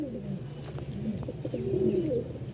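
An English Rider pigeon at a pigeon market in Mirpur, Dhaka, coos close by, a soft, throaty rolling call repeated in short phrases over faint background noise, with no talking.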